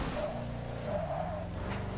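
A drift car makes a handbrake entry into a corner at the Nürburgring during a pro drifting round, its engine droning steadily with a tire-squeal band rising over the continuous roar.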